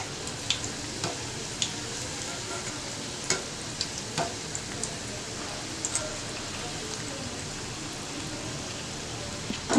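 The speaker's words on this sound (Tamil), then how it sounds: "இப்போ 2 சைடும் கோல்டன் ப்ரௌனாக ஆகிற வரைக்கும் நம்ம ஃப்ரை பண்ணி எடுத்துடலாம்" Banana blossom fingers deep fry in oil over medium flame until golden brown, a continuous soft sizzle with scattered crackles and pops, close and steady throughout.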